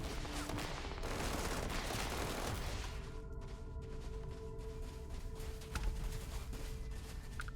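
Gunfire in Starfield near a crashed logistics ship, sustained rapid shots that rattle on, then grow sparser and are mixed with tonal game sounds, moderately loud.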